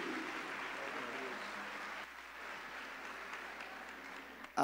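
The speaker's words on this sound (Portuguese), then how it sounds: "Vamos receber o pastor Yuri com uma calorosa salva de palmas." A congregation at a youth church congress applauds to welcome a preacher, making a fairly faint, steady wash of clapping that dips briefly midway and then carries on, heard alone.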